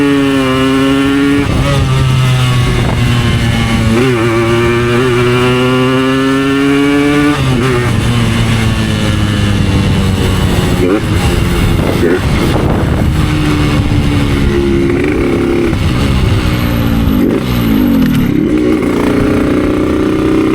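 A Yamaha RX motorcycle engine revs loudly and continuously, its pitch climbing and dropping through repeated throttle blips, close up with no talking.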